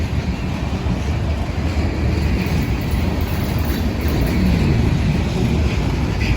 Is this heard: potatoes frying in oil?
no